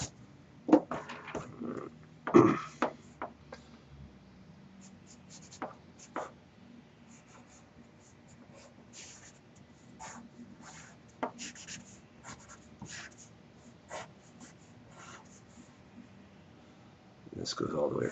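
Pencil drawing a light scaffold box on paper: soft scratchy strokes and short scribbles, close and fairly quiet, with a few louder taps and rubbing sounds and a voice speaking at times.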